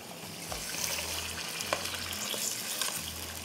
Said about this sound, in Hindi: अब मैं इसमें डाल रही हूँ चिकन, और चिकन को मैं करूँगी अच्छी तरह से फ्राई